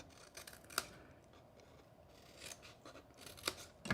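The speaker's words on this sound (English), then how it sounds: "I like to fold pieces out of the way to then come in and miter cut." Scissors make a few quick, soft snips and rubs while miter cutting the tabs of a folded paper gift box, close up and quiet with no talk.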